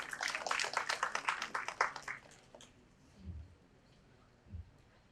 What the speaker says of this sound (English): Please have a round of applause for Team Cure and Biotech.